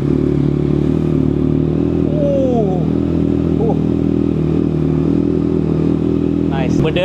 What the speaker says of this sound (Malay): kita akan dengar bunyi dia start dengan buka DB killer.